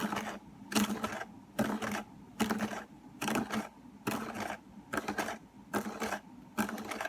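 A whisk beats egg and sugar together in a bowl for cookie dough: a brisk, regular series of about nine scraping clatters, each stroke close and evenly spaced, with no talking.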